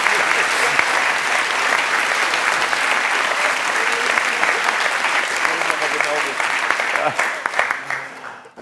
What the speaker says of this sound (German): Applaus, natürlich.